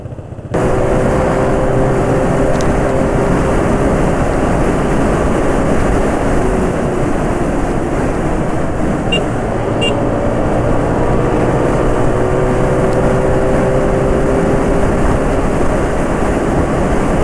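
A motorcycle ridden fast produces a loud, continuous roar of engine and wind rushing past, steady throughout with no speech.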